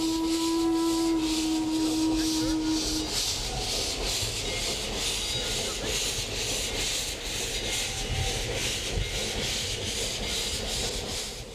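A geared steam locomotive on a narrow-gauge line through redwood forest gives off a steady, dense roar with faint rhythmic chuffing pulses as it climbs a grade. A brief whistle-like tone sounds at the start, and the noise stays loud and continuous throughout.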